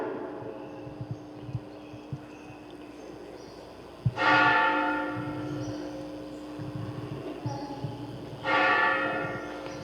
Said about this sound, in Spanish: vamos a esperar que terminen de tocar las campanas